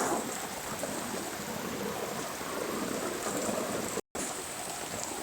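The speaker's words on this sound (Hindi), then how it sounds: "आप सबको दिखा रहे हैं कितना तेज़ बारिश हो रही है" Heavy rain pouring down in a dense, constant hiss that stays loud throughout, broken only by a brief cut near the end.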